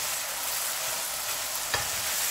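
Basil stir-fry of ham and fresh shrimp sizzling steadily in a hot pan, a loud continuous hiss with a brief scrape of the spatula near the end and no voices.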